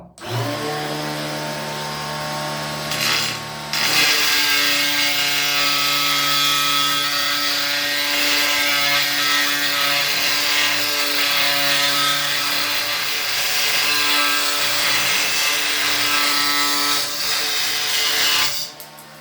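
A butterfly disc cutter slices through a 6 mm textured matte ceramic tile, giving a loud, steady, high-pitched grinding whine that runs without a break for about nineteen seconds, with a brief shift in tone early on.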